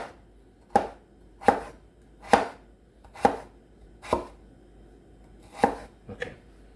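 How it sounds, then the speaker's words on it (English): Cleaver slicing food on a cutting board for hot and sour soup, six sharp, evenly spaced chops that knock on the wood at close range, each a crisp thud with a short tail and no talk. "lean the cleaver against your knuckle, but away from your fingers, and push down and forward"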